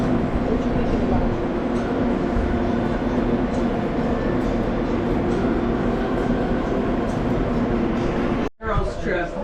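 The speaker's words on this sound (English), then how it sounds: "We're on the train." Steady, loud rumble and rattle of a moving passenger train heard from inside the car, continuous for most of the ride, with background voices and a brief sharp cutoff near the end.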